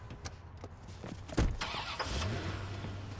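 A car engine in Watch Dogs 2 cranks and catches once, then settles into a steady mid-pitched idle that swells slightly. It stays close and moderately loud, with no voices over it.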